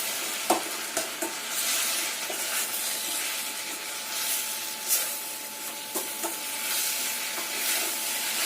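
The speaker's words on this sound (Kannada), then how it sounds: "ಇದೆಲ್ಲ ಚೆನ್ನಾಗಿ ಫ್ರೈ ಆಗಿದೆ." Chopped onion, tomato and mint fry in a pan with a steady, dense sizzle, broken by occasional scrapes and taps as the mixture is stirred, close and continuous.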